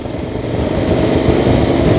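Honda X-ADV 750 motorcycle, 2023 model, on a test ride, its engine a steady, loud, continuous drone with broadband road and wind rush, holding level throughout without distinct revs.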